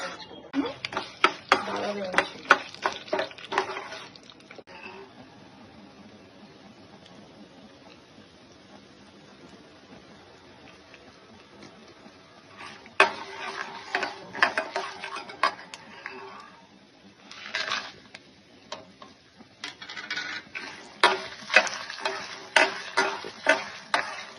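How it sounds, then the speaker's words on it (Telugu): Spices tempering in hot oil for a traditional dish, crackling and spluttering in bursts of sharp popping and sizzling with stirring clinks, quieting to a low hiss in the middle before flaring up again. "పోపు వేయించుకుందాం"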